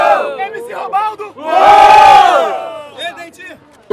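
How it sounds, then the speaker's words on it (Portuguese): A crowd at a São Gonçalo freestyle rap battle cheers and roars loudly, swelling to a sustained burst of shouting and whooping mid-clip, with an MC's voice calling out before and after the peak. "Barulho, quem gostou da rima do MC Robaldo?"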